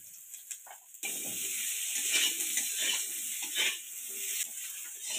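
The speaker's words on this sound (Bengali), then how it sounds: "সজনে ডাঁটাগুলো এবার ভেজে নেব লাল লাল করে" Drumsticks (sajne danta) hit hot oil after a quiet start, then keep up a loud, bright, steady sizzle with faint scrapes of a spatula against the pan; no one speaks.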